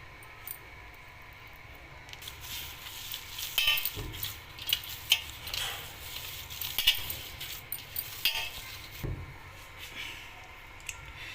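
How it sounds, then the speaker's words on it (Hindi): Beef seekh kebab mince is worked together by hand with roasted gram flour and lemon juice in a bowl, giving soft, faint squelching and mixing noises with a few light knocks against the dish. "2 से 3 टेबलस्पून भुने हुए चने का आटा डालना है और 1 नींबू का जूस डाल देंगे और फिर इसको अच्छी तरह से हमने मिक्स अप करना है।"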